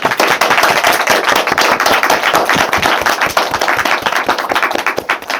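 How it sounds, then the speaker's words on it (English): Loud, dense applause and clapping from a talk-show audience, fast irregular claps filling the whole stretch without a break, close and bright. "Can we get a round of applause for Dustin?"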